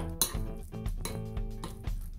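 A spoon stirring oat porridge with mashed banana, peanut butter and cinnamon in a bowl, giving repeated soft clinks and scraping taps in an uneven rhythm, close and fairly quiet over faint background music.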